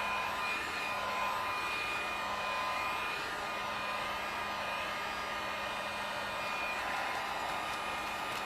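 A heat gun blowing hot air over a paper collage, a steady airy roar held evenly throughout with a faint tonal whine on top and no talking.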